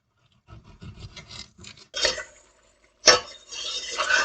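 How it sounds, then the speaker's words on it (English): Peppers being sliced on a cutting board for Jamaican cowfoot, several light knife taps and scraping cuts at irregular spacing followed by louder scrapes and clatter, close, with no talk. "I am slicing them on my Jamaican flag map cutting board."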